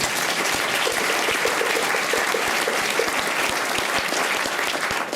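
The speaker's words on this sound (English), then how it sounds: "How about a round of applause for them?" An audience at a Maori village welcoming ceremony claps for the visiting chiefs, a dense, even wash of applause from many hands that lasts the whole five seconds.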